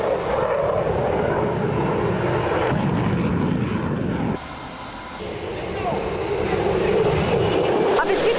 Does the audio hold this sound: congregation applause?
no